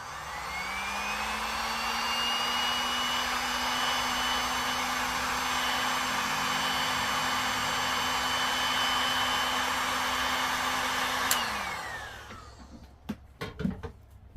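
A hair dryer runs steadily for about eleven seconds while drying fresh paint on a reborn doll during repair of rubs and chips, its whine even and close, then cuts off and winds down, followed by a few light handling knocks.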